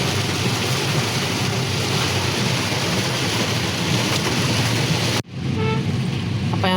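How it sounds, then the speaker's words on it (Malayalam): Heavy rain pours down at a resort in Mamalakkandam, a dense, loud, unbroken roar that cuts out abruptly near the end before a softer wash of rain resumes. "മഴ കുറയുന്നുമില്ല"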